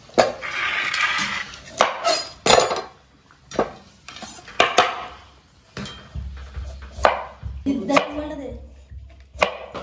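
Salad vegetables chopped on a board after frying, a series of sharp, irregular knife knocks with some clinks of dishes, close and fairly loud, with brief background voices between strikes.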